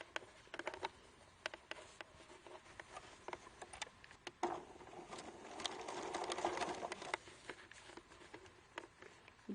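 Sewing machine stitching down a rolled fabric edge on a recycled craft project, soft rapid ticking and patter with faint irregular clicks, quiet and close with no voices.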